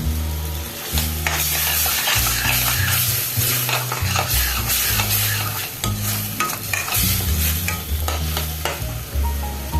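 Spices fry in a pan while a splash of water hits them, a loud, dense sizzle under constant vigorous stirring with rhythmic scraping and knocking, close and continuous, no voices.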